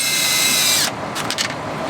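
A power drill drives a 1 1/4 inch screw into wood wall panelling inside a Nissan NV200 van camper conversion, a loud close whine that stops abruptly, followed by a few softer clicks and ratchet taps.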